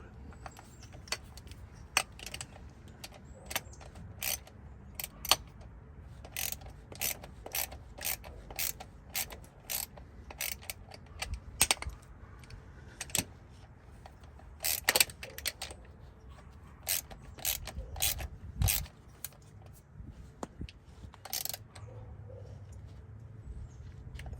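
A hand ratchet with a 9/16 socket tightens a starter bolt on a 1990s Ford F150, giving quick irregular bursts of sharp clicking, close and crisp, over a quiet background.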